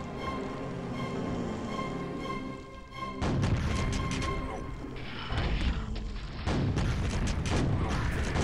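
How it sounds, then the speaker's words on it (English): Rocket launcher shots and explosions in Quake, a sustained droning ambience giving way to repeated heavy blasts and crashing impacts. "Should I stop killing myself with this rocket launcher?"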